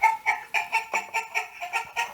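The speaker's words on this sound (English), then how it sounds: "It's got shortbread in it, but it's a clucking hen house, they say." An electronic hen clucks from a sound chip inside a shortbread tin, giving about ten quick, evenly spaced clucks in a steady rhythm, fairly quiet and with no other sound.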